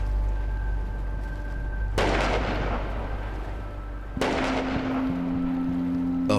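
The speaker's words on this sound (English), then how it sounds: "A final salute from the cannons on the shore." Cannons on the shore firing a farewell salute, two heavy booming blasts several seconds apart, each with a long rumbling decay, heard over a steady low engine drone.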